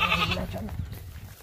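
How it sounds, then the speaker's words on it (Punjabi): A single goat gives a short, fairly close bleat that fades into quiet room tone. "ਚਲੋ ਆਪਾਂ ਨੂੰ ਇੱਕ ਬੱਕਰੀ ਮਿਲੀ, 1500 ਦੀ ਬੱਕਰੀ"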